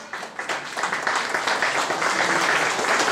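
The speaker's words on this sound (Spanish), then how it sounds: "yo quisiera un fuerte aplauso para ellos" Applause for the parents at a Catholic baptism party, many hands clapping that build from scattered claps into a full, steady round, close and lively, with no speech over it.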